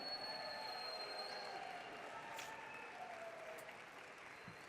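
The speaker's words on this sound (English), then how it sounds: "give you one more round of applause" Audience applause for the 2015 spotlight teachers at a recognition meeting, a steady, fairly distant wash of clapping from a crowd that holds throughout.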